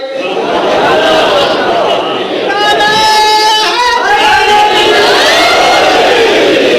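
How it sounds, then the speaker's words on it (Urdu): A crowd at a religious majlis gathering shouts slogans in unison, loud massed voices surging in waves with sustained chanted tones and scattered calls, close and energetic throughout. "کوشش کرو جھکے نعرے مارو"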